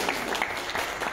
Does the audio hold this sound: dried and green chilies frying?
no